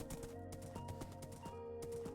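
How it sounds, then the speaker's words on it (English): Horse hooves clip-clop in Minecraft, a quick, steady run of faint, crisp hoofbeats from a very fast horse. "Got myself a horse, which is a very, very fast horse."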